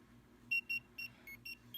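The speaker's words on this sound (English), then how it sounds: "So the buzzer plays the song from the original Mario Bros." A small electronic buzzer on a homemade Simon memory game beeps out the original Mario Bros tune as a quick series of short, shrill tones over a faint low hum, fairly quiet and close.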